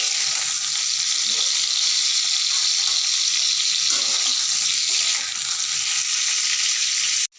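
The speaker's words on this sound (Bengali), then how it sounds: "পটলগুলো সব আমার ভাজা হয়ে গেছে" Pointed gourd pieces fry in hot oil with a loud, steady sizzle that carries on unbroken throughout.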